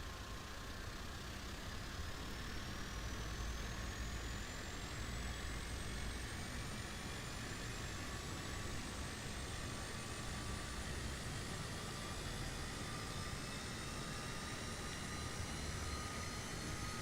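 Airbus A320neo engine spooling up in MSFS 2020, a steady broad whine and roar with rising high tones, sustained and fairly even throughout, no talking.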